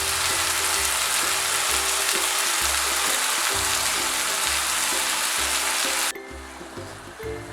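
Sausage and pasta sizzle loudly in a hot pan while being stirred, the steady frying hiss broken by rhythmic scraping and clattering stirs close up.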